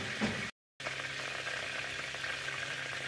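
Onion, garlic, ginger and green chilli paste sizzles steadily in a little hot oil for a coriander chicken dish, a close, even frying hiss broken by a brief dropout near the start.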